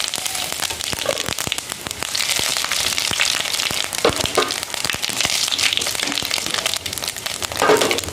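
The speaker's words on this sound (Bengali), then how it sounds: "আমি এখন তেজপাতা, শুকনো লঙ্কা ও জিরে ফোড়ন দিয়ে দেব।" Bay leaf, dried chili and cumin seeds sizzle in hot oil in a kadai, a loud, dense crackle and spatter with sharp pops scattered throughout, heard up close with no talking.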